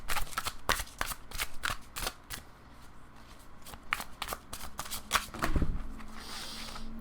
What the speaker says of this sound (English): I just dropped like half the deck.